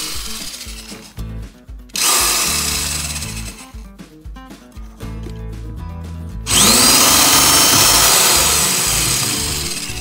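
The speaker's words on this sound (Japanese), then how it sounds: "大きなドリルを出してきました。" A large power drill bores a hole during a camper van vent fan install. Loud grinding bursts start and stop, then give way to a strong, sustained whirring roar that slowly fades.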